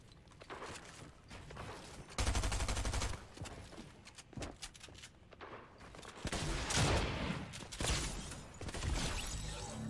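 Rapid, heavy shotgun blasts and bursts of gunfire from an arena match in an online shooter game, dense and continuous over about ten seconds with clattering mechanisms, no talk.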